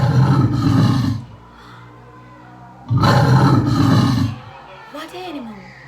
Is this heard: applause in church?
no